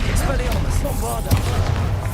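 A Bombarda explosion spell in the Hogwarts Legacy video game, with a sharp burst standing out in the middle of busy game music and combat noise.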